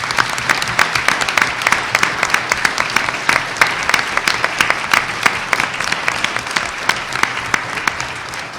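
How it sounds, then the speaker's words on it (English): Applause for students at a Board of Education meeting: a sustained, loud round of clapping from a seated audience, crisp individual claps dense and even for the whole stretch, with no talking over it. "Let's give them a big round of applause."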